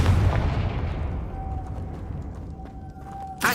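A fire-spell blast from the Hogwarts Legacy video game bursts loudly at the start and fades into a rumbling tail. A thin sustained tone runs through the middle, and another sharp burst hits at the very end.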